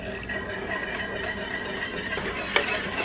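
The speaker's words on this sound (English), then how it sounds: "I like to add in 1/2 cup of heavy cream. Give that a mix." Heavy cream being stirred into thick turkey gravy made from a roux, giving a soft, continuous swishing and light scraping of a utensil in the pan, fairly quiet with a faint clink near the end.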